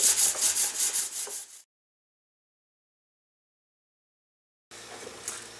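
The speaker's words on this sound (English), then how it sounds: "Still sanding." Steady rhythmic rubbing of hand sanding a rocket body tube, a quick back-and-forth scratch, stops for about three seconds and then resumes more softly.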